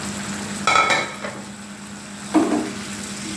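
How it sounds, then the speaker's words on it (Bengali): Chopped vegetables drop into frying masala with a sudden loud sizzle, then metal scrapes and stirs against the pan, with a second burst of frying a moment later, close and without talk. "এবার আমি কেটে রাখা সবজিগুলো দিয়ে দিচ্ছি।"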